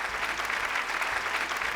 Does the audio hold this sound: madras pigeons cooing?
no